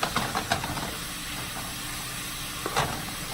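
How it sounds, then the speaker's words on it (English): Meat fries in a pan for homemade spaghetti sauce with sausage, a steady close sizzle and hiss with a few sharp pops and spatters near the start and end. "So I'm going to move that around. Let that meat fry."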